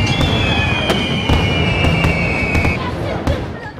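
Fireworks bursting at a Maltese village festa in Tarxien, with repeated sharp loud bangs and crackles over a dense outdoor crowd hum, while a high whistling tone streaks through the first few seconds.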